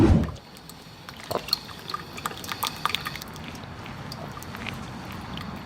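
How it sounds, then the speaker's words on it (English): Coffee drips and trickles from a coffee maker into the pot in small, irregular drops, faint and close, over a quiet background hiss. "It then cuts to this coffee maker as this liquid intermittently drips into the coffee pot"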